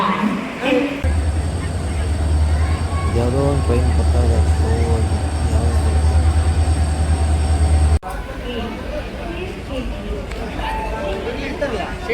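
A train pulls into Madgaon railway station with a loud, steady rumble and a high whine that stop abruptly, followed by busy platform noise. People talk throughout.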